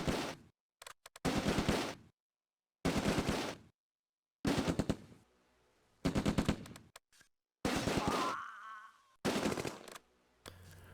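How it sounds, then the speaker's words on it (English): Machine-gun fire in the WWII video game Close Combat: A Bridge Too Far, aimed at an enemy MG42: about seven loud, sharp bursts of rapid automatic shots separated by silent gaps, one followed by a brief whine. "The machine gun opens up on the enemy MG42"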